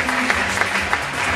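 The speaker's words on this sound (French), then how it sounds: "Je vais vous demander d'applaudir le juge suivant" Spectators clap for a judge being introduced at an open competition in Auby, a close, steady patter of applause with a few sharper individual claps poking through.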